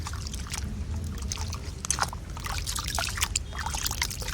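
Water mixed with mashed aloe vera is gently poured over a potted garden plant, making a steady close trickle and dribble with scattered small splashes and drips throughout.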